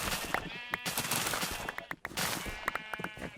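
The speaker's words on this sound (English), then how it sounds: "Oh, the sheep. They want the hay." Sheep bleating in a farming video game, several short cries popping out over steady game music and background bustle, fairly close and repeated through the stretch.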